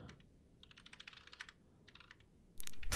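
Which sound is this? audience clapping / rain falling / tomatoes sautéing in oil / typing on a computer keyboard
typing on a computer keyboard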